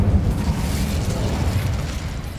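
Incendio fire spell in the video game Hogwarts Legacy, a steady roaring burst of flame with deep rumbling booms, loud and continuous throughout.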